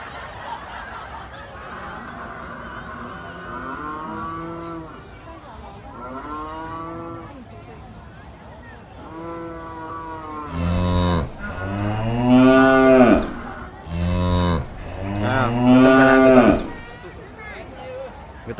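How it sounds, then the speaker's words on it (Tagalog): A water buffalo, or carabao, in Taiwan moos several times in loud, drawn-out calls that get stronger toward the end. Quiet background talk and some chuckling run underneath the calls. "Kalabaw dito sa Taiwan 'yan."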